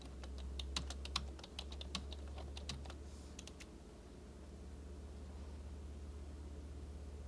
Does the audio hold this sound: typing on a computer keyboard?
yes